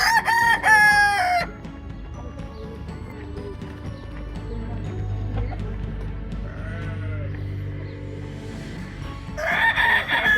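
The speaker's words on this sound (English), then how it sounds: "When one rooster crows, the other ones crow because they're always competing." A loud rooster crow opens, then quieter homestead farmyard background with faint bleats, before a second rooster crows loudly near the end.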